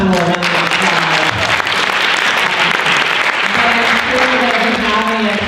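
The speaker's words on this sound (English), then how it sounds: "give the panel a round of applause" At a real-estate panel session, an audience gives loud, sustained applause that fills the room, with voices audible over the clapping.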